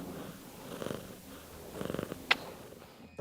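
Purring from a handsome cat that lives in a deputy mayor's office in Dnipro, a soft low rumbling flutter that swells in a few pulses, close and quiet with a brief sharper noise near the end.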